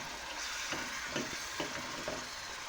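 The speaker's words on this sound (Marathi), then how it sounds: "याला एकदम तेल सुटेपर्यंत छान परतून घ्यायचं" Ground coconut, flower and coriander masala sautéed in hot oil for a village-style mutton rassa, giving a steady close sizzle and fry with soft, regular stirring scrapes about every half second, no voices.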